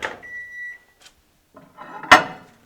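A kitchen microwave oven gives a short electronic beep as it finishes, followed by brief clunks and rattles like its door and dishes being handled, all close and fairly quiet.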